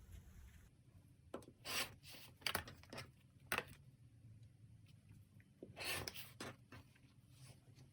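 Fabric strips being sliced into 2.5-inch quilt squares from pre-cut 10-inch layer cake squares, likely with a rotary cutter, giving several short scraping swipes spaced across the clip, close and fairly quiet, with no talking.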